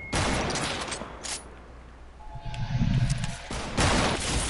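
Gunfire in the video game Fortnite during a duos match, with loud bursts of rapid shots at the start and again later and a steady game soundscape between them.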